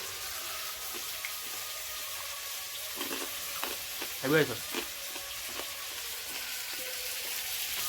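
King crab fries in a pan for a spicy curry, a steady sizzling hiss with scattered stirring scrapes and a short voice-like sound partway through.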